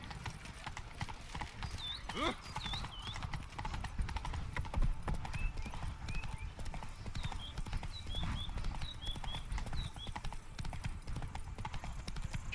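Horse hooves clip-clop steadily in The Witcher 3: Blood and Wine, with whinnies, birdsong chirps and a game soundscape around them, while someone talks over the top.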